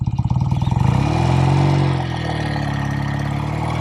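A 1969 BSA Thunderbolt 650 motorcycle engine runs close up while riding. It starts with a pulsing throb, swells into a steady revving drone as it accelerates, then eases to a lower hum.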